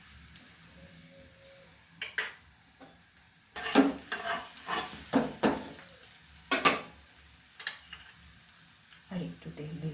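A vegetable-stuffed paratha fries in oil on a pan, giving a quiet sizzle broken by several sharp bursts of spatula clatter and scraping, close by, with scattered utensil knocks.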